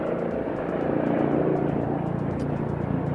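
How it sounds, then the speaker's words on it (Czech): A rescue helicopter from the Liberec region flies overhead with a steady, loud, broadband rotor and engine roar that holds for the whole stretch with faint rhythmic pulsing and no voices. "Liberecký vrtulník, záchranářský"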